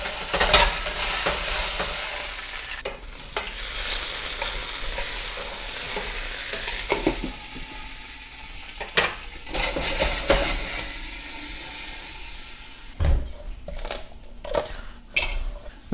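Tomatoes and onions sizzle and fry in a pan over a fire while a utensil stirs and scrapes them. Clanks of metal on the pan come at irregular intervals over a steady hiss, with no talk.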